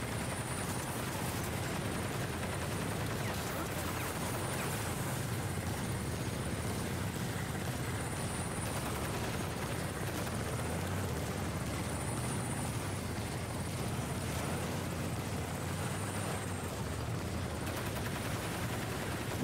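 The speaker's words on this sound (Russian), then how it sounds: "Осталось лишь вертушку сбить." A helicopter hovers close overhead in Crysis Remastered, a steady loud rotor roar running throughout with a faint high whine, no voices.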